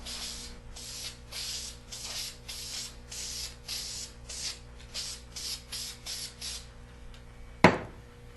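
A spray can lays down an even coat of paint on a lightly scuffed, tack-ragged surface, a steady hiss coming in about a dozen short rhythmic bursts, fairly quiet and close, ending with a single sharp click.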